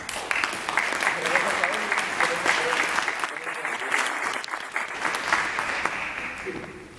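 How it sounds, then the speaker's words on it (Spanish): A crowd applauds steadily at a natural and cultural history talk, a dense wash of clapping that holds for several seconds before tapering off, with a voice briefly audible underneath. "Démosle la bienvenida, un aplauso."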